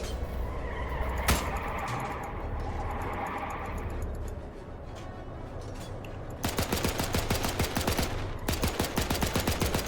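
Automatic gunfire in the military video game Arma 3 while targeting a vehicle's gun, a single early shot over engine rumble, then long rapid machine-gun bursts that dominate the second half.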